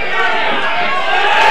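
A crowd at a boxing match, on its feet, roars in a loud, continuous wash of cheering and shouting, with a voice over the top.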